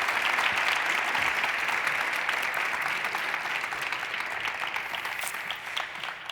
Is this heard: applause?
yes